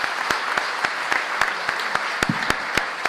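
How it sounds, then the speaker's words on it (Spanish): Steady, moderately close audience applause at the close of a debate between candidates for national deputy hosted by the Fundación Federalismo y Libertad, with dense clapping and a few sharper individual claps throughout. "pido a todos ustedes entonces un aplauso por esta jornada que termina de esta manera"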